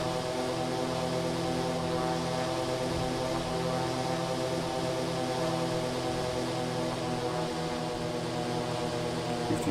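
Steady, droning engine hum of a Eurofly Twinfox aircraft in Microsoft Flight Simulator, with a continuous propeller whine holding at cruise power and no break or talk throughout.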